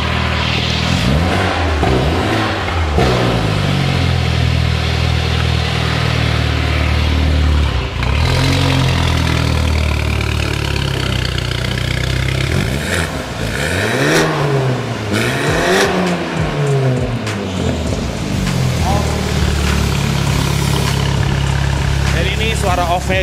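BMW F30 with its exhaust valve closed, revved repeatedly with rising and falling engine pitch, loud and near, with people talking at times.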